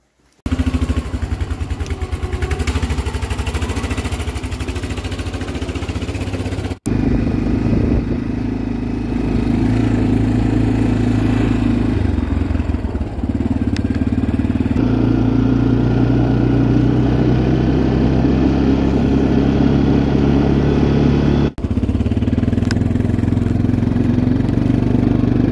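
A motorcycle engine in cold weather around 11°F fires up and settles into a steady, loud running drone, with a couple of abrupt breaks and restarts along the way.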